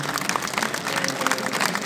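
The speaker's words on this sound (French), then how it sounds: "là on peut applaudir" Audience at a live event breaks into applause, a brief burst of dense clapping lasting under two seconds with faint voices mixed in.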